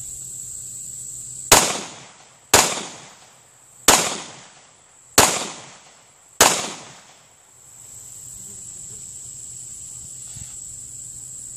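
Five sharp pistol shots from a Smith & Wesson M&P9c fired at a target outdoors, evenly spaced about a second apart, each loud crack trailing off quickly, with faint insect chirping in the background.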